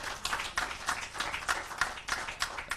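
Faint, scattered clapping from a small group applauding the Masaka City delegation at a building industry system launch, uneven bursts rising and falling in quick succession.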